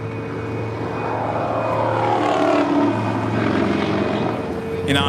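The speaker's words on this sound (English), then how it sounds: "Looks like EVA Air 777-300ER heading back to Taipei." An EVA Air Boeing 777-300ER departs runway 25 right bound for Taipei, a steady engine rumble with a rising whine building toward the middle, moderately loud and continuous, with faint voices in the background.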